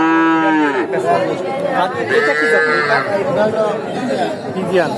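Cattle at a busy Sirajganj village livestock market, with close, loud moos and a few bleats rising over constant crowd chatter and people talking nearby.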